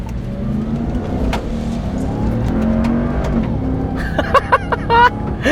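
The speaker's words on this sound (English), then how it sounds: "just listening to the supercharger go, it's so entertaining" A 2021 Ram 1500 TRX with a supercharged engine accelerates hard, its deep roar rising and shifting over several seconds, followed by a few sharp clicks and thumps near the end, with faint talk underneath.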